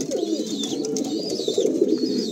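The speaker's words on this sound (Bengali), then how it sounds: "আর এই অন্ধ্রা পায়রা ও সবার সামনে মস্তি করবে, গরম খাবে।" Andhra pigeons coo continuously in a loft in Kolkata, with several close, overlapping, throaty rolling calls and faint higher chirps above them.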